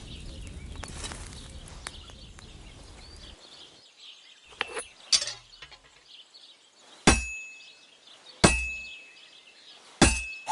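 A hammer strikes metal on an anvil in Kingdom Come: Deliverance 2, giving sharp ringing clangs, three hard evenly spaced blows after lighter taps and clinks, with a metallic ring trailing each hit.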